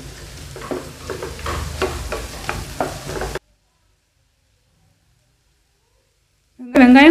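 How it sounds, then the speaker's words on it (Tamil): Onions with curry leaves and green chilies sautéing in a pan, a steady sizzle with repeated stirring scrapes for a few seconds, then silence before a short loud burst at the end. "வெங்காயம் நல்லா வதங்கணும்."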